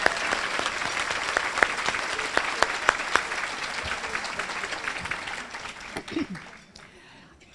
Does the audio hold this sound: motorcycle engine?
no